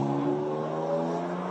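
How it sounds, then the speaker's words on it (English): A GT race car at Fuji during Blancpain GT World Challenge Asia 2019 qualifying, its hard, throaty engine holding a loud, steady revving drone with slight pitch shifts throughout and no voices. "Oh, that's throaty. It's a much harder engine, though, isn't it?"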